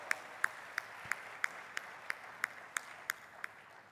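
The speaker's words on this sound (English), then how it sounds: "Maybe give them a big round of applause." Slow, evenly spaced claps at a Rotary Institute event, about a dozen sharp handclaps roughly every third of a second over a faint background wash, sounding like a single person or a thin audience clapping in a hall.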